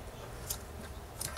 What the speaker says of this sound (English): the final step on this is just to cut these ends off